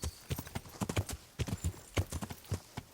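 Horse hooves clip-clop at a steady walking rhythm in the medieval game Kingdom Come: Deliverance, the hoofbeats close and clear with no talk over them.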